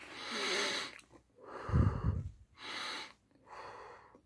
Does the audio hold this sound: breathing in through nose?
yes